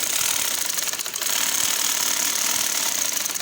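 A sewing machine runs steadily, stitching along dori piping set over a pressed crease in fabric, with a continuous fast mechanical whirr and rattle throughout and no pauses.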